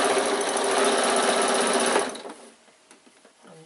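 A sewing machine runs straight across a bag seam in one loud, close, continuous burst for about two seconds, then stops, leaving quiet handling noises.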